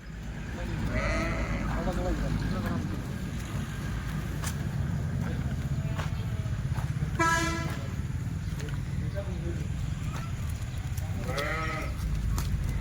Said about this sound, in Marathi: शेळ्या एक नंबर आहेत पण